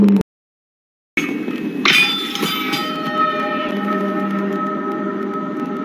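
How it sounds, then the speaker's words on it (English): Metal bell in The Mandalorian struck and sliced in half: after a brief silence, sharp clangs ring out close and loud, then a long metallic ring slowly fades. "Cutting that bell in half."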